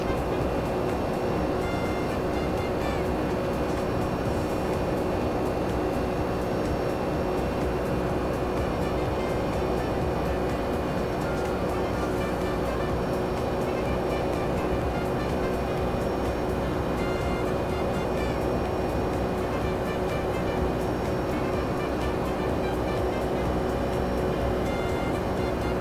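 Aircraft engines in the X-Plane 12 flight simulator game drone loud and steady, a constant broadband roar with faint tonal hum that barely changes for nearly half a minute, with no talk.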